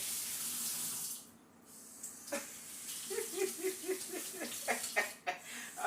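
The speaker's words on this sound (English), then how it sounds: "now that we have the shrimp all nice and cleaned, give them another rinse over here" Cleaned shrimp rinsed under a running kitchen tap: steady water flow hissing into a sink, a short pause, then splashing and trickling with irregular bursts as the shrimp are moved about, no voices.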